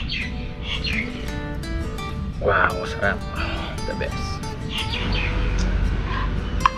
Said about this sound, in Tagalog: Grabe, nakakanta yung mga ibon.